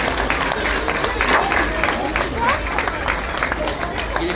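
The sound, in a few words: audience applauding a child's drawing prize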